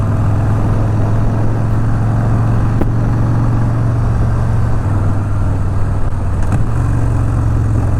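A Harley-Davidson Street Bob 107 motorcycle engine rumbles loud and steady, a deep continuous V-twin drone heard up close with no speech over it.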